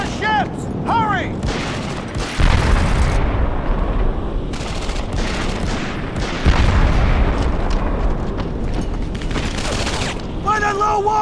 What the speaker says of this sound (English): They're firing on our ships!